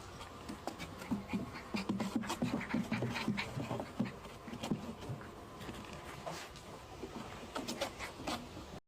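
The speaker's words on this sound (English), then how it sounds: "Beautiful dog." An American pit bull dog pants steadily and rhythmically close by, with faint whimpers and rustling over a quiet background.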